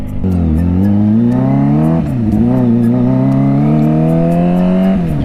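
Kawasaki ZX25R motorcycle engine climbing uphill in third gear, a loud, close, high-pitched four-cylinder wail that holds strong and steady with pitch dips and rises as the throttle shifts, no talk.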